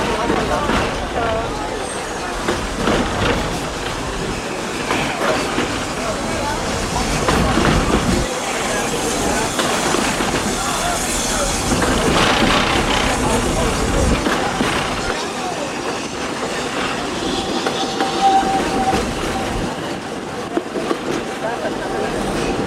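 Walt Disney World Railroad train rolling through woods toward Fantasyland, a continuous rumbling run with occasional clatter beneath an ongoing narrated talk.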